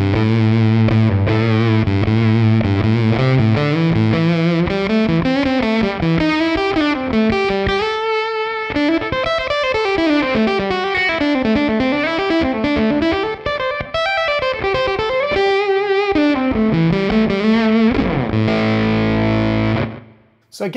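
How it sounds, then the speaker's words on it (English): An electric guitar runs through a JHS Legends of Fuzz pedal with the mode switch engaged, giving a stuttering, gated fuzz. A continuous melodic line plays loud and up front, with no one talking. "if we engage the mode switch on this one, it's going to give us that stuttered kind of effect or gated effect"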